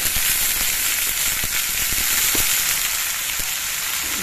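Eggplant pieces hit hot oil in a pan of already fried onions, a loud, continuous, close sizzle with occasional crackles and pops, and no talking.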